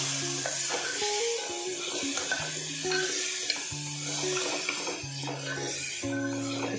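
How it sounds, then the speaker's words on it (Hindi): Tomatoes are stirred in a sizzling frying pan for a lotus stem and potato sabzi, a steady close frying hiss with repeated rhythmic scraping strokes and faint background tones. "टमाटर डाल के इसे घुमा लेंगे"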